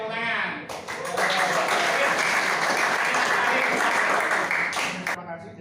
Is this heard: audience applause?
yes